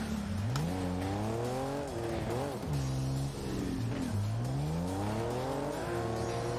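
Car engine noise in Rocket League, a revving motor whose pitch repeatedly climbs and drops as the car accelerates and eases off, loud and close throughout.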